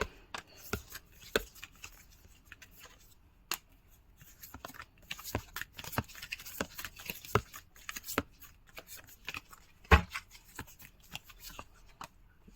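Tarot cards being shuffled and drawn by hand, a run of soft papery riffles, flicks and slaps, close and fairly quiet, with a sharper snap near the end and no talking.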